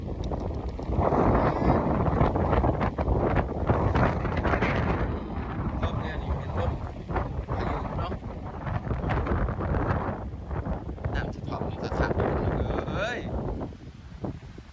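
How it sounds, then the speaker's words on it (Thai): Strong wind buffets the microphone outdoors during all-day rain with flooding nearby, a loud, continuous roaring rumble with gusts that ease near the end, while someone talks over it. "ลมมากอีกแล้วพี่น้อง"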